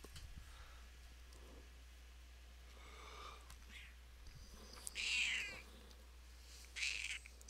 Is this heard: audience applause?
no